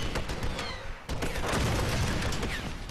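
Rapid explosive fire and booming blasts from a grenade launcher in the Tomb Raider video game, dense and loud throughout, with a brief dip before the barrage resumes and sustains to the end, with no voices.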